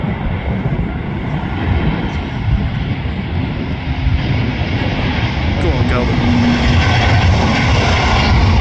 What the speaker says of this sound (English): The A330 is on its takeoff roll.